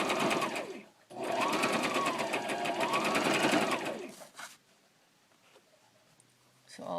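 A sewing machine runs close by, stitching a vintage doily onto a throw pillow in a long steady whirring burst of rapid stitches, then stops; a short second run starts at the end.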